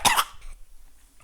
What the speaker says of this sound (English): Why am I coughing so much?